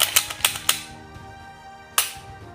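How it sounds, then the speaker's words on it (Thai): A Glock 19 Gen 3 pistol is cleared of ammunition: a few quick, sharp metallic clacks of the slide and mechanism in a close burst, a short pause, then one more crisp clack; no talk. "เคลียร์กระสุนให้เพื่อนๆดูก่อนนะฮะ ไม่มีลูกนะครับ"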